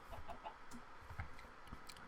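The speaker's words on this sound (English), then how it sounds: "Where's there a chicken?" Faint, sparse chicken clucks from Minecraft, a few short scattered calls over a low steady background with no talking.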